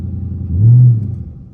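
A Dodge Charger R/T launching hard under launch control, a deep engine rumble that swells loudly for about half a second, then eases back into a steady low drone.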